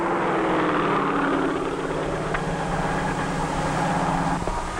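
A helicopter flies low over fields while crop dusting, its whirling rotor and engine producing a steady, loud, continuous drone with a throbbing beat throughout, and no voices.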